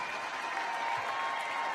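A graduation ceremony crowd applauds the 2022 graduating students, a continuous even roar of clapping with a faint steady tone ringing underneath.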